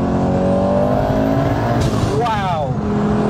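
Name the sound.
1000HP Audi 80 accelerating hard in third gear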